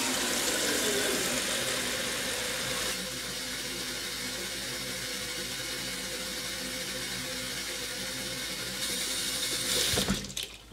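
Water pours steadily into a one-gallon jug, a continuous rushing hiss that drops slightly in pitch after a few seconds as the jug fills, then swells briefly before an abrupt clunk near the end.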